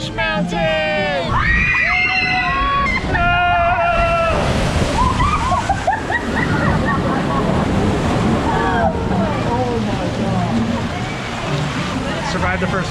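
Splash Mountain log flume at Disneyland in summer heat: rushing, sloshing water and a broad splash wash with crowd noise, while riders scream and shout loudly throughout.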